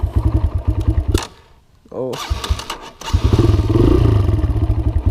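Dirt bike engine throbbing loudly in a pulsing rhythm, briefly dropping away, then revving back up to a steady high drone, with a person talking over it.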